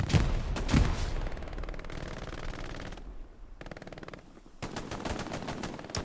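Automatic gunfire in Hell Let Loose, an 18-versus-18 infantry match: loud bursts of machine-gun fire open and close, with a quieter stretch between, and the shots come in clustered rattles.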